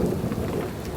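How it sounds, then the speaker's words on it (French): Steady heavy rain with a low rumble of thunder during a storm high on a forested mountain, a dense, loud wash of noise heard near and continuous. "dans une forêt, avec un orage et des putains d'éclairs"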